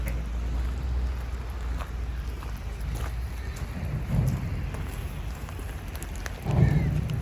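Steady rain falls in Whittier, Alaska, a constant hiss with low rumbling wind or engine noise underneath and a couple of louder swells, with no voices.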